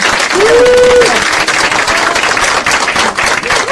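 Audience applause at the Korean People's Party second-anniversary ceremony, a sustained, dense crowd clapping at steady loudness throughout, with a brief voice-like tone rising near the start.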